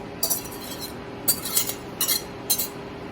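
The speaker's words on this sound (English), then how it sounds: "4 eggs. Just break them up just a little." Four eggs are beaten lightly in a bowl for a cake batter, heard as four short bursts of a utensil clinking against the bowl with quiet gaps between them.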